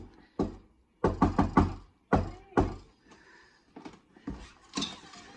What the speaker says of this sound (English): Oh, do a secret knock or something?